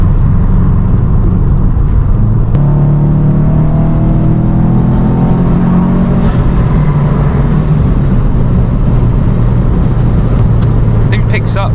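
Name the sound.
2007 Subaru WRX STI accelerating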